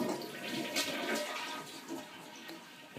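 A household toilet flushes, a close, loud rush of swirling water that gradually eases into a softer draining hiss.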